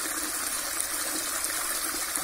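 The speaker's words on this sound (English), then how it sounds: "You see water flowing?" Water flows steadily like a fountain on a housing estate, a constant splashing hiss that stays close and even for a couple of seconds.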